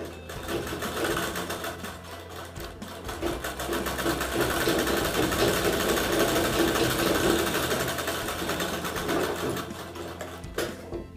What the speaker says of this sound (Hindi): ये इस प्रकार से डबल फोल्ड करके किनारे से सिलाई करना है।